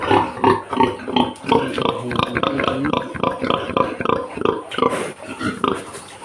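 Pigs in a pen grunting repeatedly in quick, rhythmic bursts, close and loud, with a few squeals near the end.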